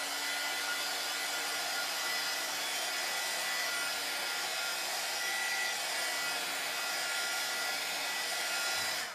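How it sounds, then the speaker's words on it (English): A heat gun blows a continuous, even airy roar while drying a silkscreen transfer, steady and moderately loud throughout before cutting off at the end, with no voices. "I'm using a heat gun, but you can totally use a blow dryer."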